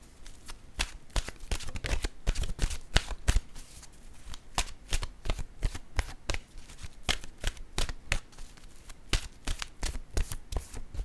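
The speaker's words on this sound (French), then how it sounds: "Je vais piger maintenant une carte de mon oracle de l'âme intuitive." Oracle cards are shuffled by hand in a quiet room, a rapid run of crisp, close riffling snaps and slaps repeating steadily with short pauses between bursts.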